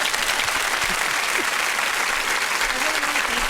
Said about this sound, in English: Can she get a round of applause for that?